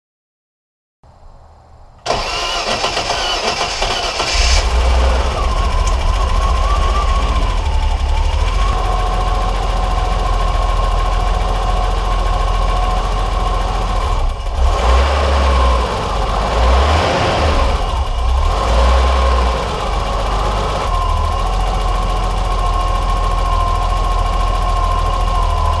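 After a short silence a BMW E30 engine cranks and catches following a timing belt replacement, then settles into a steady, loud idle with brief revs and a whining tone, heard up close with no talk.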